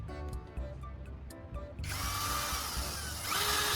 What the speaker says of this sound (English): With the drill spinning, I'll use the sandpaper sleeve to sand the wood into a smooth, uniform dowel.